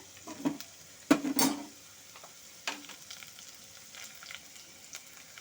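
Grated ginger and slit green chillies drop into hot tempering oil with dried red chilli and bay leaf, giving a quick burst of crackling sizzle and a few spoon clinks, then a quieter ongoing fry.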